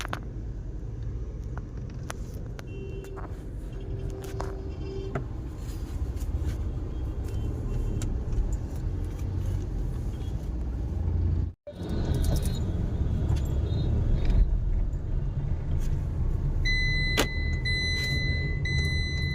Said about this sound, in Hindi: अब गाड़ी में बैठ गए हैं। अब बैक कर रहे हैं गाड़ी।